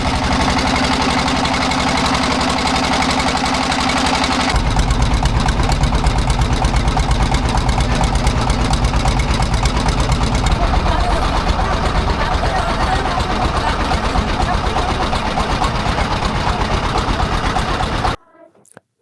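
A boat's motor drones continuously on a river, a steady mechanical rattling chug with a shift in pitch partway through, loud and close before cutting off abruptly at the end.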